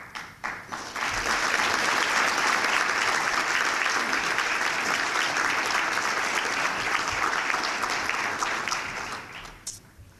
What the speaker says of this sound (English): And I think all of us should applaud that